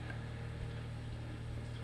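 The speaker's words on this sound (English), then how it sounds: "So I'm going to turn this fan on" Steady low mechanical hum of an electric fan running nearby, with a constant droning buzz and airy whoosh, unchanging throughout.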